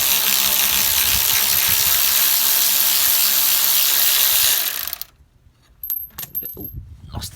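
Metal washer dropping during gearbox removal on a 2.3 dCi Renault Master, heard as a brief light clink after a long stretch of harsh continuous noise cuts off, followed by faint scattered knocks and tool handling.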